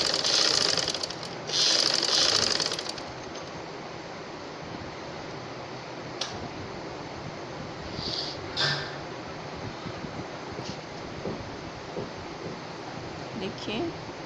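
A sewing machine runs in two quick bursts of rapid stitching, sewing a frill onto trousers, then falls quiet apart from faint clicks and handling sounds, with someone talking over the quieter stretch.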